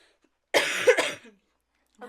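One harsh cough, heard close in a quiet podcast recording. It is a short double burst followed by silence, with a faint sound right at the end.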